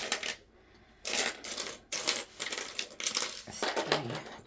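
British £2 coins being counted by hand, with bursts of bright metallic clinking and jingling as they are dropped and stacked, close up, separated by brief quiet pauses.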